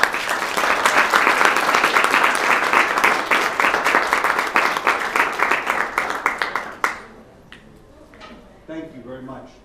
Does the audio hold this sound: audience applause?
yes